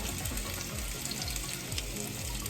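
Apple-stuffed pork chops frying in a pan, giving a steady, dense sizzle that stays loud and close throughout, with no talking.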